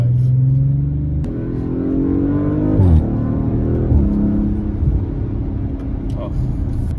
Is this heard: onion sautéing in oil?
no